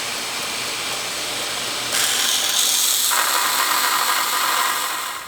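A power tool cuts and shapes a pair of glued-together steel knife guards made from a leaf spring, a continuous loud high whine that steps up in pitch and intensity partway through, alone without talk.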